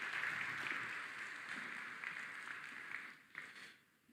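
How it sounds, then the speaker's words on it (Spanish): Audience at an international pain medicine course applauding after a speaker, a dense, fairly faint crowd clapping that fades out toward the end. "aplauso nuevamente,"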